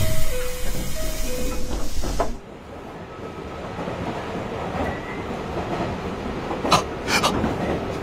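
A running-train sound effect in a radio drama: a steady rolling rumble with faint rhythmic clacks and a few sharp hissing bursts after a brief tonal passage at the start.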